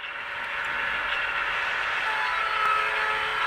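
An HO scale model train runs along a club model railroad layout past the main yard, making a steady, continuous rolling whir with a constant level throughout.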